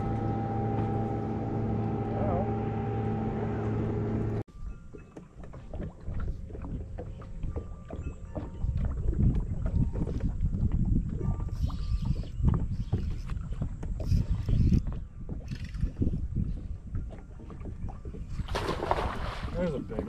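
A boat passing on the Chickahominy River during late-summer fishing, its engine and wake sloshing as a steady close rumble over water, with wind noise and voices talking.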